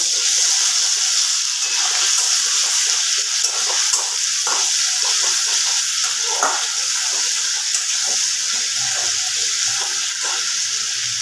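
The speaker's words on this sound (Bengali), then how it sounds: "কড়ার মধ্যে আদা আদা রসুনের পেস্টটা দিলাম এবার এটাকে নাড়াচাড়া করে নেব" Ginger-garlic paste stirred in a hot kadai for foil chicken makes a loud, continuous sizzle with faint scraping strokes of a spatula running under it throughout.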